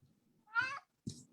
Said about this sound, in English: Please pardon the cat who is upset that he can't be in the window.